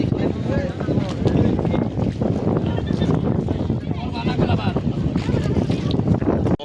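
A boat ride on the water at Mini Cox's Bazar in Basulia, Tangail, with steady wind buffeting the microphone and a constant wash of motion noise while people talk throughout.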